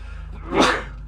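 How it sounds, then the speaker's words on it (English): A single close sneeze bursts out in one brief sharp blast over a quiet background. "Apologize now if I have to sneeze."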